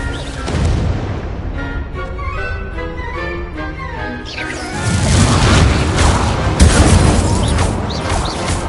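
Spell explosions from the Confringo fire curse boom and crash in Hogwarts Legacy, a loud burst landing about halfway through, then rumbling, clattering impacts over a busy game soundtrack.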